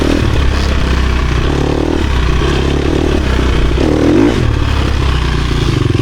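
Dirt bike fitted with an FMF Gnarly exhaust pipe riding Michigan single track in third gear: a loud, continuous engine drone close to the microphone, holding steady with a brief swell and some rattling clatter, with no talking.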